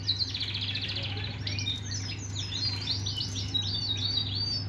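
An agate canary with red factor colouring sings in a rapid, bright stream of trills and chirps, close and continuous over a steady low electrical hum.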